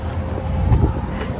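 A short gust of wind outdoors on a cold, snowy day in Canada, a low buffeting rumble close on the microphone with no speech.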